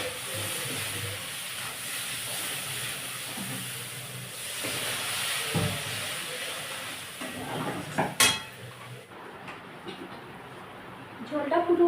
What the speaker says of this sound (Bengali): একটু গোলমরিচের গুঁড়ো দিয়ে ভালো করে কষে নেবে